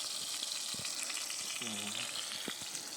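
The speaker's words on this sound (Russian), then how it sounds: "Так, Валерий сегодня вечером нам жарит рыбу" Fish sizzles steadily in a frying pan over a campfire meal at a riverside camp, a dense continuous hiss with small pops, close and fairly loud throughout.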